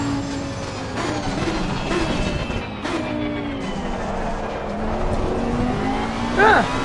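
A race car in Assetto Corsa Competizione on an American track brakes hard, its engine note sweeping down in loud, continuous tones with tire noise, no talking over it.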